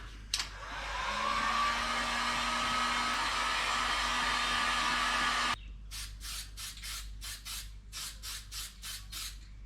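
A Wagner heat gun roars steadily for about five seconds while drying paint on a workpiece, then cuts off, followed by a run of short, evenly spaced bursts.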